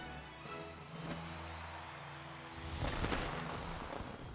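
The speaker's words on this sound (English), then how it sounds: "Did those fireworks come out of the ground?" Fireworks burst in the Pokemon Sword video game: a muffled low boom and crackle, a sustained tonal hum from the game's music, then a louder cluster of popping bursts near the end, with no talking.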